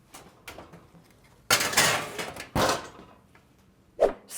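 A roasting pan of butternut squash slid into a home oven, with the oven door handled: soft clinks, then two loud clattering scrapes and a final bump, close by, with no speech.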